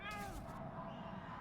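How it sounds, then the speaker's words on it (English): A cat meows briefly in the video game Pathologic 2, a short close call with harmonic rising tones near the start that fades into a low ambient game background. "Cat."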